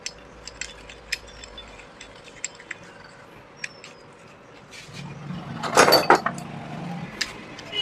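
Metal nuts are fitted by hand onto the clutch plate of a Honda Shine engine, giving light scattered clinks and ticks, then a brief louder metallic rattle.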